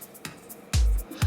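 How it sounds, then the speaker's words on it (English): A short, punchy percussion pattern with deep booming kick hits and crisp, bright clicks in between, played alone. "it started out with this percussion"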